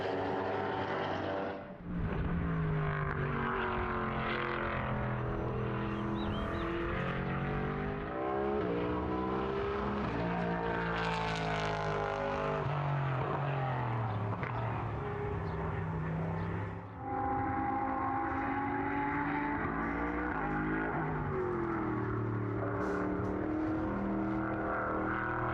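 GT race cars lapping the Portimão circuit in qualifying, engines rising and falling in pitch as they pass, continuous loud roar with shifting tones over the whole stretch.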